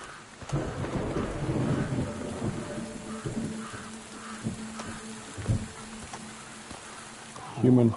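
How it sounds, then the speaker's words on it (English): A thunderstorm in the Reveil video game, with steady rain pattering on surfaces and low thunder rumbling throughout. A louder burst comes at the end. "Looks like the storm hit us pretty bad."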